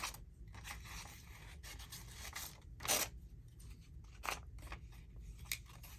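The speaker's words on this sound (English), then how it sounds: "I'll cut that bit off." Scissors snip through paper during a craft session with ephemera, giving a series of close, crisp cuts and rustles with a few sharper snips standing out against quiet background.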